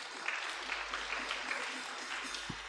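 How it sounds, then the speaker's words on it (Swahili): A church congregation at a Kikuyu service claps together, a dense steady patter of many hands heard from some distance, lasting a few seconds with no talking over it. "Tumahurire makofi."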